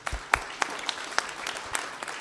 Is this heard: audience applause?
yes